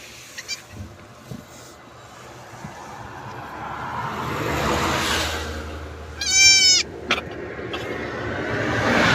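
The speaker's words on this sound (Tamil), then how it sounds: "இந்த அழகான ஆட்டுக்குட்டி" A young goat kid bleats in a short, loud, wavering cry near the end, over faint background noise and a rising hum of a passing vehicle; a few soft thumps and rustles come earlier.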